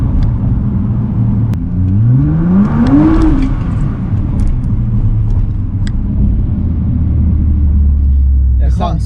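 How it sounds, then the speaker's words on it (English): Salvage-rebuilt Nissan GTR with a mid-pipe exhaust accelerating on a test drive, a brief climbing engine note over heavy road rumble inside the car, then settling into a steady low drone. "It sounds so much better with the exhaust"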